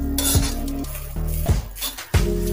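Coconut roasting in a little oil in a pan while a metal spoon stirs it, making repeated loud scraping and clinking strokes against the pan over a steady background hum.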